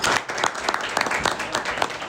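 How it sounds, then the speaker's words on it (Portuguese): Audience applause at Brazil's national education conference, CONAE 2024, a steady wash of clapping from a crowd that holds throughout at moderate loudness, with a voice briefly audible over it. "Uma salva de palmas."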